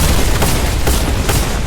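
Rapid, loud bursts of gunfire crackle in quick succession, dense and booming, like an intense firefight heard up close.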